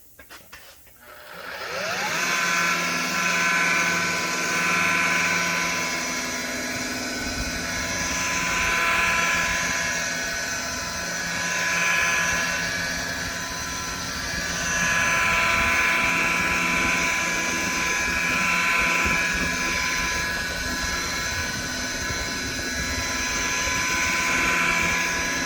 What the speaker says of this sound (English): This is a variable speed buffer